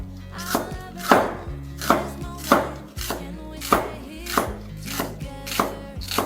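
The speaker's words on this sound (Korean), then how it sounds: "이렇게 얇게 채 썰어서 물에다 담궈서" A kitchen knife slices an onion into thin julienne strips on a cutting board, about ten crisp, evenly spaced chops ringing out close and clear with no talk.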